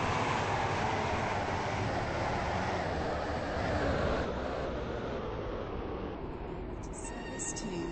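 A train in a video game runs along its rails with a steady, dense rumble and rattling clatter that fades slightly toward the end, with a few faint chime-like tones at the close.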